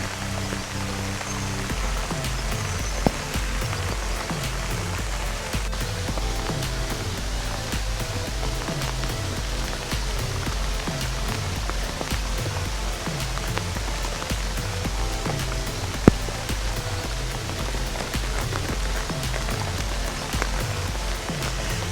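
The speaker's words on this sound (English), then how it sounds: "I love the sound of the rain." Steady rain falls on a garden of dried-up ferns and phlox, a dense, even patter that continues without a break and with no talking.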